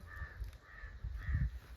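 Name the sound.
crow cawing near a farm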